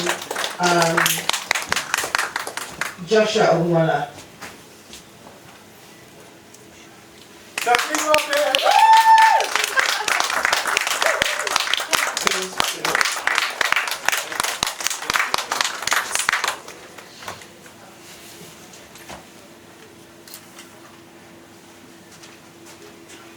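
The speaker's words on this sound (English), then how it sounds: "Please a round of applause as we also welcome" A training programme audience applauds as a guest is welcomed, with a short burst of clapping, then a longer sustained round of claps. A speaker's voice comes in between and around the applause.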